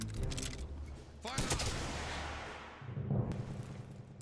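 A firing squad's rifle volley goes off in Return of the Obra Dinn, a sharp burst of several near-simultaneous shots with a long echoing decay, preceded by a shouted order and followed by a dull rumble.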